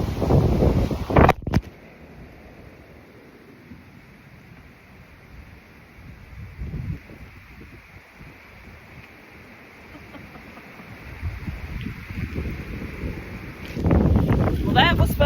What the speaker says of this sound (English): That's this wind. This wind is about to blow us apart out here.